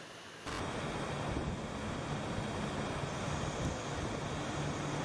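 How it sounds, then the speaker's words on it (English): A motorboat moves upstream on a river, its motor lost in a steady, loud rush of water and wind noise that starts abruptly and continues evenly. "In this clip, you see the motorboat moving up the stream."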